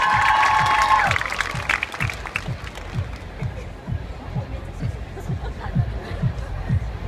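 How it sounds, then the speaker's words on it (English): An audience claps for the next contestant at a bridal show preshow, a steady round of applause with some crowd noise and voices in the background through the whole stretch. "Let's give a round of applause."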